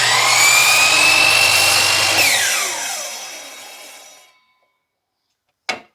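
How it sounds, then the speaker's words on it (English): A loud miter saw cutting wood whines at high speed, then spins down and fades to silence, followed by a single sharp click. "we're going to take this piece back over to the miter saw"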